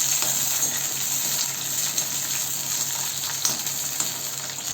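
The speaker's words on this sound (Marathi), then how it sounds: "तेलामध्ये भेंडी टाकू आणि फास्ट गॅसवर आपण भेंडी तळून घेऊया" Sliced okra fries in hot oil over a high gas flame, a steady close sizzle and crackle with faint clinks now and then, no voices.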